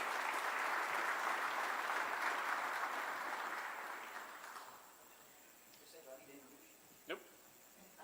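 An audience at a Lincoln Reagan Day dinner in Tyler applauds after a speech, a thick wash of clapping that fades out after about five seconds into a quiet room with a few small knocks and clinks.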